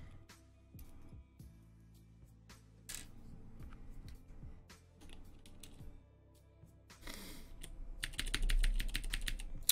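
Plastic keycaps pressed firmly onto a Vortex Pok3r mechanical keyboard give off a run of sharp clicks and clacks, close and fairly loud, with a denser, harder burst of snaps near the end.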